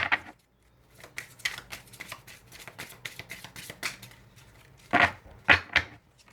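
Tarot cards being shuffled and drawn by hand, a run of quick papery flicks and riffles followed by a few louder slaps as cards are laid down, close and with no talking.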